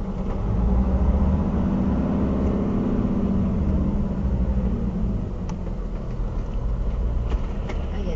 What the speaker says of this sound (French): Ah, il y a deux camions.